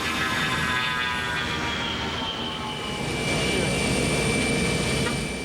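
A military jet from an Air National Guard base in Battle Creek roars steadily with a whining, rising engine tone, loud and continuous for several seconds, as if close by on the ground or just overhead.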